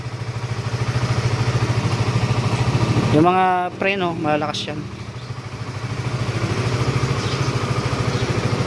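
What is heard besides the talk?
Honda CBR 2012 motorcycle engine idling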